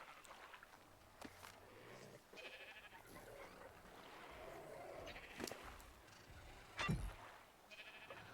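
Sheep bleating in the video game ARK, a few short bleats mixed into busy in-game background sound, with one louder burst near the end.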